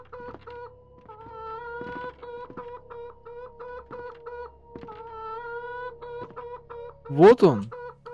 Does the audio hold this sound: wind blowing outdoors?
no